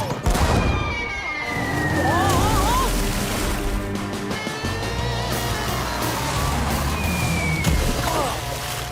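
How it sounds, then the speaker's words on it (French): Cartoon pirate cannon blasts boom over a busy, lively scene from Blaze and the Monster Machines, with sloshing water and whooshing effects around them. "Qui pourrait avoir l'idée de nous lancer des boulets de canon?"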